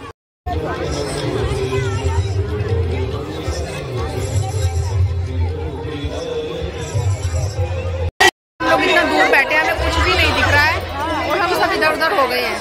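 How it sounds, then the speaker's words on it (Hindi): A large crowd chatters at a gathering to meet Shri Aniruddhacharya ji Maharaj, a dense, steady babble of many voices close by, briefly cutting out before resuming louder. "बहुत ज्यादा भीड़ है यहाँ पे।"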